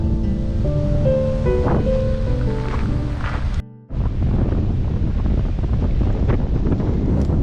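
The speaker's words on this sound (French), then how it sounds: "Il y a un peu de vent." Strong wind buffets the microphone with a steady roar outdoors in New Zealand, cut by a brief silence midway before the gusting resumes.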